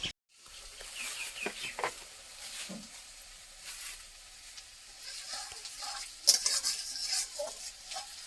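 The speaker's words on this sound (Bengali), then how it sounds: "পেঁয়াজটা অনেকটাই ভাজা হয়ে গেছে," Onions sizzle in a kadai on a home stove and are stirred now and then with scraping strokes over a steady frying hiss, while chickens cluck faintly in the background.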